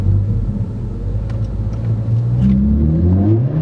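A Ford Focus ST accelerates hard in first gear with wheel spin and wheel hop, its engine note climbing in a loud, close, steady rev that rises in pitch toward the end, with no talking over it.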